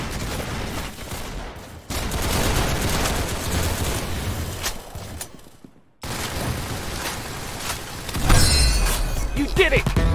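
Rapid gunfire from the video game Roblox Arsenal, with dense bursts of shots and impacts that run loud and continuous with brief cuts, and a voice talking faintly underneath.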